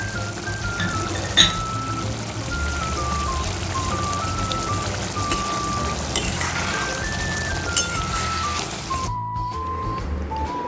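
Garam masala frying in a pan for rohu fish kalia, a steady close sizzle with faint stirring, continuous until it drops away near the end.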